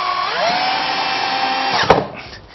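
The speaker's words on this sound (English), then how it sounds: "this part of the procedure is a basic unscrewing and screwing operation" Power tool driving screws while fitting Mighton sash window pulleys, a loud steady whine rising in pitch, then stopping with a sharp click and fading.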